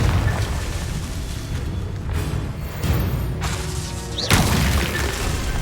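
Confringo blasting spell going off in Hogwarts Legacy, a loud blast that arrives as booms and crashes over a steady game ambience, with the sharpest explosive burst near the end.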